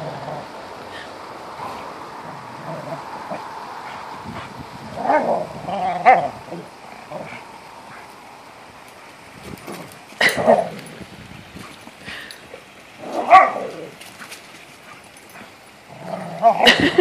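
Dogs give several short barks and yips in bursts, with whimpering between them, while people talk in the background.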